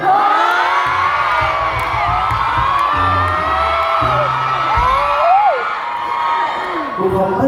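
Audience cheering and whooping at a live charity anniversary event, a steady crowd roar with shouts rising throughout, with a voice talking over it.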